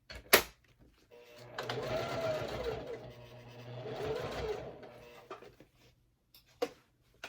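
A domestic sewing machine backstitching the seam of a wallet runs in two sustained bursts with a short pause between them, and a few sharp clicks and knocks come before and after.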